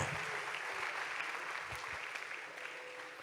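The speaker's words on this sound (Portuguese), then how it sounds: "Pode aplaudir Jesus." A church congregation applauding during a Portuguese-language communion service, a steady wash of many hands clapping that carries through the whole moment and tapers slightly toward the end.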